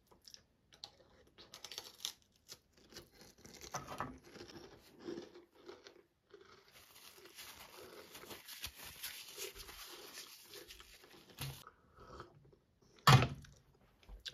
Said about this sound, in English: I love me some grape jelly on these 1982 crackers.